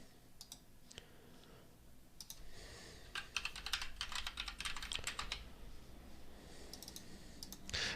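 Steady typing on a computer keyboard while writing Python code, close and fairly quiet, with clustered clicks in an uneven rhythm and no talk.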